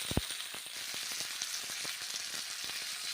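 Peas frying with spices in a wok, a constant bright sizzle with scattered crackles and a few stirring knocks near the start, close and steady without any talk.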